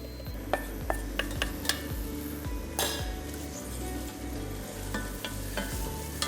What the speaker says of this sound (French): On va déjà faire revenir les oignons